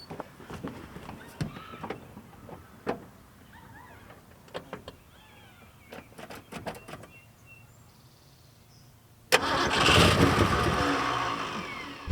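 An abandoned Mustang Cobra left sitting 27 years cranks with a whirring starter, then its engine catches and roars to life near the end, loud and close, after a stretch of quiet clicks and handling noises.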